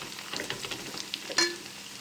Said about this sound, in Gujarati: પછી હલાવતા રહેવાનું છે.